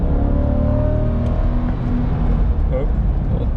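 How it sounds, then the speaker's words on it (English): A Chevrolet Corvette C8 with a dual-clutch transmission drives hard on a track, its engine droning loud and steady with rising revs and quick shifts, while a voice talks over it. "this is a dual clutch trans. The shifts are just clean."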